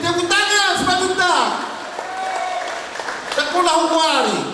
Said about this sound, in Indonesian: Tepuk tangan Majunta.